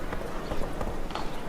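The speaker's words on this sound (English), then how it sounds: "Whoa there, Roach." Hooves of a horse ride at a steady clip-clop pace in The Witcher 3, loud and close over a constant game ambience, with no talk.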